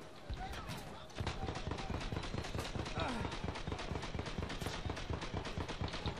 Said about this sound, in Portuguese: Veja, veja as explosões.